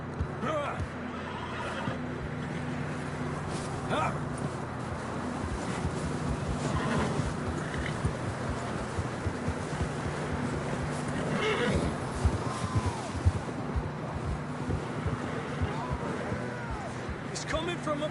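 Horses neigh and whinny in the Red Dead Redemption 2 video game, mixed into a busy outdoor game soundscape with hoof clip-clop and steady ambient noise, while characters talk throughout.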